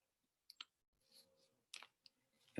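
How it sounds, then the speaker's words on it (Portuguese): Several faint computer mouse clicks, sharp and sparse, sound in a quiet room during a presentation, with small pauses between them and a louder click at the end. "aqui estão uns cliques a mais."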